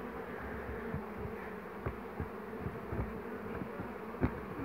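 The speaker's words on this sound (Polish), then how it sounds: "już się tu zdenerwowały dzisiaj pszczółki" A crowd of agitated honeybees hums continuously up close at an open hive, with a few soft knocks and taps scattered through the drone.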